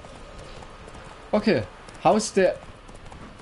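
Horse hooves in The Witcher 3, a few quick clip-clop hoofbeats in two short bursts over a low game background, with someone briefly speaking.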